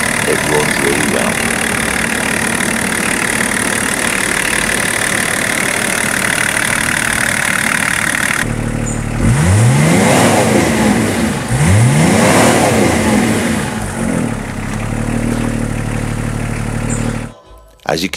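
A Range Rover P38 2.5 diesel engine idles steadily, then revs up sharply twice with rising and falling pitch before settling back and cutting off abruptly near the end.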